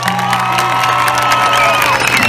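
A large concert crowd at the final-day show of the 88th İzmir International Fair cheers and applauds loudly and continuously, with whoops and shouts rising over a steady roar for a couple of seconds.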